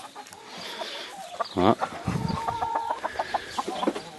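Hens clucking inside a New Zealand farm hen house, a few close, irregular clucks and calls scattered over a steady murmur, with a brief spoken exclamation.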